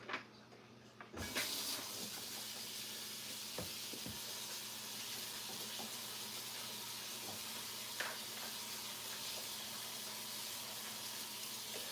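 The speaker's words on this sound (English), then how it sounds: "And rinse this broccoli." Water runs steadily from a kitchen tap as broccoli is rinsed before seasoning, a continuous hiss filling the whole stretch with a few light knocks and clatters of dishes and the bowl in the sink.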